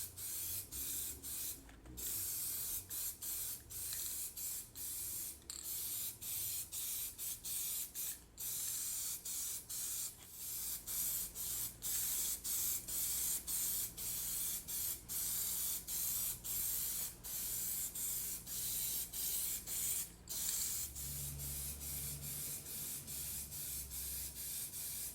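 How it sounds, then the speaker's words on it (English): Plasti Dip chameleon aerosol spray can hissing steadily in long bursts with brief pauses between, close and continuous over a faint background hum. "2 or 3 coats of the turquoise silver and the green and blue chameleon spray cans"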